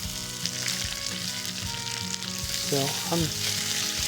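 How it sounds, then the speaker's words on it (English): Salmon fillets, cut thin, sear in a hot pan with a steady, broad sizzle that holds throughout, a few clinks and scrapes of the pan near the end, and a single brief spoken word. "I cut them thin like this, so you can pan sear them"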